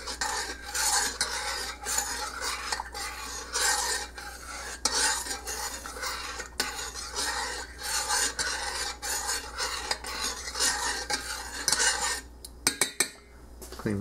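A spoon scrapes and clatters against a metal pot while food is stirred over heat, with steady rasping strokes and occasional sharper knocks of the spoon, close and fairly loud, ending with a few taps.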